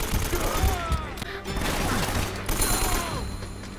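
AK rifle gunfire in Uncharted: Drake's Fortune, a dense fusillade of shots with crashing impacts layered over game noise and a voice.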